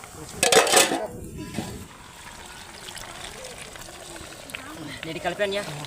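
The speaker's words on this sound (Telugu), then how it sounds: "ఇదిగో ఓకే మూత వేసి" Metal lid set onto a pot of mutton curry with a brief clattering clank, followed by quieter pot and utensil sounds while people talk nearby.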